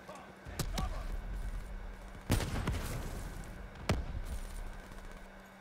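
Gunfire in Call of Duty Black Ops 3, a few sharp, separate shots cracking out over a low game hum, spaced irregularly, the loudest in the middle.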